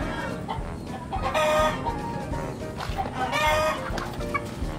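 A small backyard flock of five pet chickens clucks nearby while a rooster lets out two loud, drawn-out crows, with no talking.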